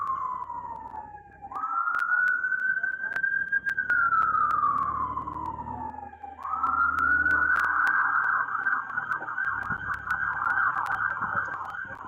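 A loud ambulance siren wails, rising and falling, then settles into a fast warbling pattern, close by in a park and sustained throughout with no talk.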